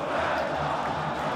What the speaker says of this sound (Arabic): نشوفوا في دونور ملعب كازابلونكا الجماهير يعني تهتف بصوت واحد